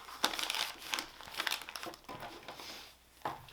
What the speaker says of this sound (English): that completes all of our cash envelope stuffing for today's video